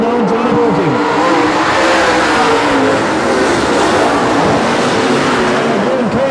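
Race car engines rev loudly and steadily on the track during a late-lap battle into the back straightaway, a close, sustained roar with shifting pitch and a commentator talking over it.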